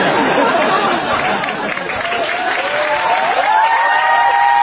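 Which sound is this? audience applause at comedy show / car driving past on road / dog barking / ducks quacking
audience applause at comedy show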